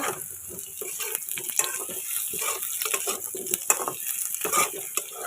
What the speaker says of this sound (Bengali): ফোড়ন দিলাম আর জিরে ফোড়ন দিলাম গোটা জিরে